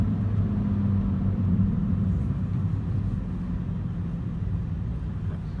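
A car engine rumbles steadily through a manual downshift, a low, continuous drone heard from inside the cabin without talk.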